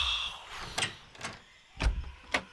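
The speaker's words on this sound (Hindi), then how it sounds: "दरवाजे पे जोर की दस्तक हुई" Loud knocks on a door at night, four heavy raps in two pairs, close and distinct over a quiet room.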